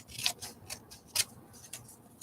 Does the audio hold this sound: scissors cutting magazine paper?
yes